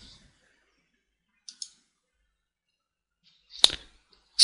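Sharp computer mouse clicks on a quiet desk while deleting columns in an Excel spreadsheet, a faint double click followed later by a louder click and another at the end, separated by near silence.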